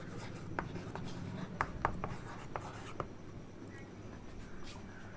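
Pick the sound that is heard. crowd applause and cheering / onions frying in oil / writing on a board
writing on a board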